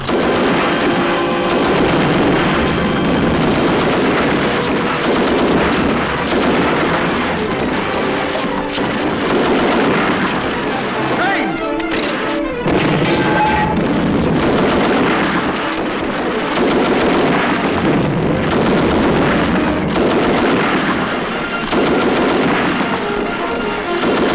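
Loud, continuous battle din of artillery and gunfire from a 1944 war film, with dense overlapping blasts and crackling shots filling the whole stretch without a pause.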